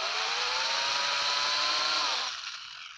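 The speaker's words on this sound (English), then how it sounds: "I'm going to countersink and I get that lined up on my hole and I just let it do its work" A drill with a countersink bit bores into a hole, a high whining motor whir that holds steady for about two seconds, then winds down and fades.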